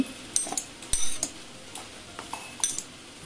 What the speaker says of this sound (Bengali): এখন এগুলি জারের মধ্যে নিয়ে নিচ্ছি।